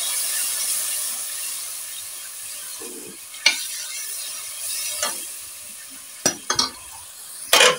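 Onions fry in a pan just after a splash of water goes in, cooking for a turnip curry: a soft, continuous sizzle broken by a few sharp clinks and scrapes of stirring.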